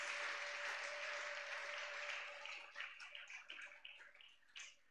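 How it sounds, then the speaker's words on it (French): A church congregation claps together, a dense, distant wash of applause that thins into scattered individual claps toward the end. "Acclame le Seigneur Jésus."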